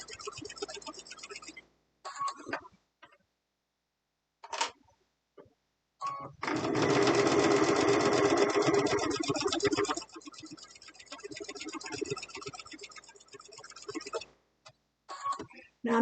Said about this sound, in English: And I'm going to stitch over that a little bit.